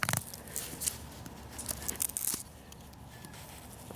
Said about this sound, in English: if the blade will be good enough to cut out a little notch between those 2 grooves